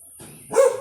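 A single sharp dog bark near the microphone, preceded by a brief faint rustle, loud and alone without talk.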